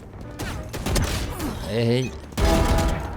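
Gunfire in a shooter video game crackles in sharp bursts and rattling volleys, loud and close, while someone talks over the shots.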